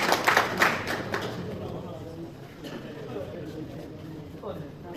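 At a prize distribution ceremony, the audience breaks into a short burst of loud clapping that fades within a second or two. Talking and crowd murmur carry on underneath and continue after the clapping stops.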